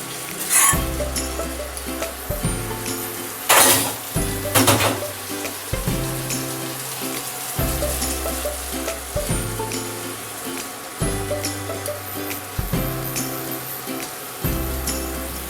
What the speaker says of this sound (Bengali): এবার এটা ভাজা করার জন্য নাড়তে হবে